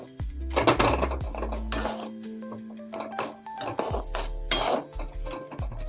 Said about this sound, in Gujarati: હવે બધી જ વસ્તુને મિક્સ કરી લઈએ